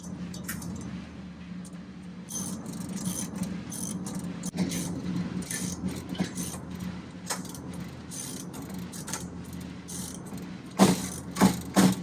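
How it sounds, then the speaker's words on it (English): Ratchet tightening a bolt on the bracket of a Blaze tank-mounted flame weeder during assembly, a steady run of quick small clicks over a low background hum, ending in a few louder close clunks. "I'm gonna go ahead and tighten that up while I've got access to it."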